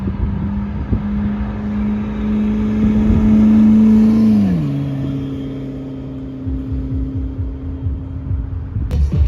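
A McLaren P1 supercar at a Midwest car show pulls away, its loud engine note holding steady and then dropping in pitch as it drives off, with crowd noise and a sharp bang near the end.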